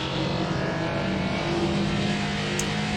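A Clio 16s race car lapping Knockhill circuit during a championship round, a continuous loud engine drone holding steady at high revs, close and unbroken, with no voices over it.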